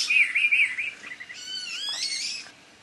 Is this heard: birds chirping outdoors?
yes